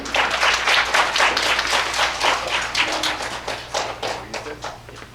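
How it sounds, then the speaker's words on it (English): A modest audience gives a round of applause for a keynote speaker, a professor from the University of Toronto, with distinct, uneven individual claps that thin out toward the end. "let's start with a round of applause"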